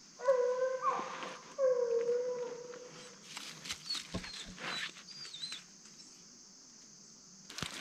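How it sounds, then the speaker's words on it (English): Hound dogs bay while trailing a rough bear track, two long drawn-out bawls up close at the start, followed by scattered barks and rustling, with insects droning in the background. "dogs have found the track here"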